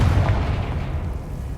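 A Confringo fire spell explodes in Hogwarts Legacy, a deep, heavy boom at the start that rolls off into a low rumbling decay, loud and alone.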